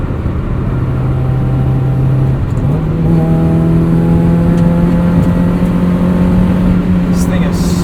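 A 1994 Mazda Miata track-prepped project car drives at night, its engine droning loud and close, pitch holding steady then stepping up as it accelerates through a gear, continuous throughout.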